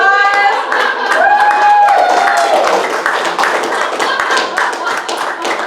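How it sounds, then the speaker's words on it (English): An audience at a prayer talk applauds with sharp, close, rapid clapping that carries on steadily for several seconds while a voice speaks over it. "Applause"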